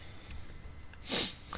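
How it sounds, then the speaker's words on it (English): One short, wet sniffle up close, briefly louder than the faint room noise around it, with no talking. "it's really annoying when it happens on stream because no one wants to hear me sniffling"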